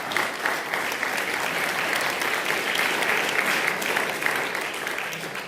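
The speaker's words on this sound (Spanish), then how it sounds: "Denle un aplauso al Señor." A church congregation bursts into sustained applause during a sermon, dense steady clapping from many hands filling the room for several seconds without letting up.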